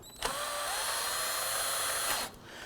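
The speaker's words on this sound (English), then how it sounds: "Snug down the two nuts." Power tool, likely a drill or impact driver, snugging down two nuts on a transmission mount of a 2008-2011 Ford Focus, one short steady whir with a rising whine that stops sharply after about two seconds.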